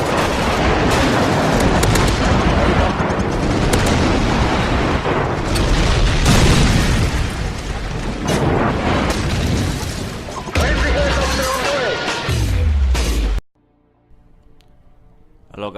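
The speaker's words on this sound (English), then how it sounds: "Friendly airstrike on the way." Airstrike explosions in the video game Call of Duty 4, a dense, loud barrage of booming blasts and gunfire with radio voices mixed in, cutting off abruptly to near silence near the end.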